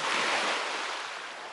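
Sea waves wash onto a beach at Casablanca beach in Donskaya stanitsa, a loud, close, steady hiss of surf and rushing water with some wind, no voices.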